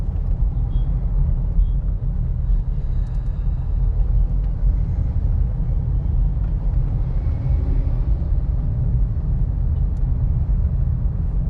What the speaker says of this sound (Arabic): يلا دوسي بنزين.